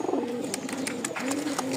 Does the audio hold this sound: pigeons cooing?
yes